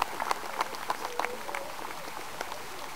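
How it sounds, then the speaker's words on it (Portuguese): A stadium crowd applauds at a funeral on the pitch, scattered claps and faint cheering heard from a distance, fairly quiet and uneven over a soft background hum. "O público aplaudiu."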